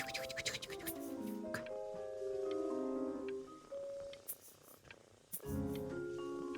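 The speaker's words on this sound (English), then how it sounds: "Who needs food when you can play with a kitty?" A kitty purrs softly in the video game Before Your Eyes, a low, quiet rumble beneath clear, chime-like musical tones that come and go.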